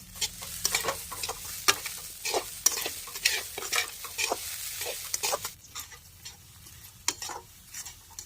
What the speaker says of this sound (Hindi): और अब हम इनको चला लेते हैं अच्छे से